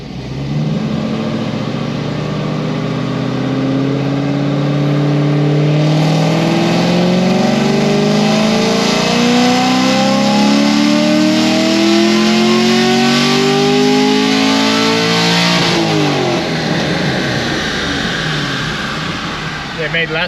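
A tuned LT1 Camaro with heads, cam, MSD ignition and E85 fuel roars through a long dyno pull, its engine note climbing steadily in pitch for about fifteen seconds before cutting off and settling back toward idle.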